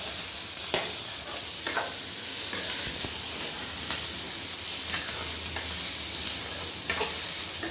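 Onions sautéing in a pan for onion chutney, a continuous sizzling hiss with periodic scraping stirs every second or so, close and fairly loud with no talking over it.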